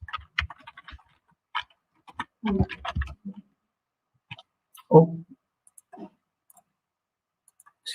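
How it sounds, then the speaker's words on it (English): Someone types on a computer keyboard in scattered bursts of light clicks and taps, separated by pauses, with a brief spoken word near the start. "excuse my typing skills here"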